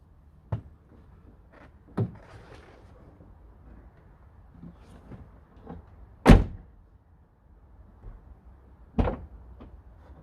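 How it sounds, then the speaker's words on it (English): A van door with a pull-out bed mechanism clunks and latches several times, with one loud sharp bang near the middle among fainter knocks and shuffles, close by and with no talking. "we're going to just test that opens the door"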